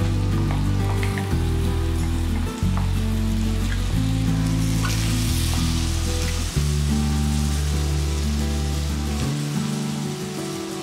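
Green chilies and tomatoes fry in a pan of softened sambar onions for fish kuzhambu, giving a steady, dense sizzle that runs the whole time over a low, stepping drone.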